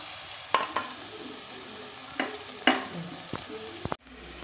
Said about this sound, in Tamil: ஒரு பெரிய வெங்காயம், 1/4 கிலோ சின்ன வெங்காயம் இதில் கட் பண்ணி போட்டு நல்லா வதக்குறேன்.